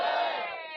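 A studio audience of spectators cheers and shouts together in a loud, sustained burst that slowly tapers off, with no talking over it.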